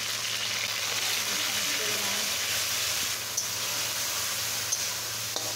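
Garlic paste fries in a pan with a constant, close sizzle and hiss, accompanied by a low steady hum and a few faint clicks of utensils.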